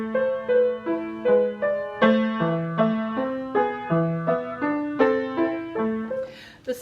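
A piano plays a Bach Invention slowly and evenly, with a steady pulse and clearly articulated notes, the two voices moving in clean, detached steps, close and moderately loud with no talking.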